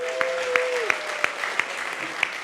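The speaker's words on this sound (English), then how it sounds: "Please applause." An audience at a council meeting in Budapest claps steadily through a brief ovation, with louder individual claps standing out at regular intervals while a voice trails off at the start.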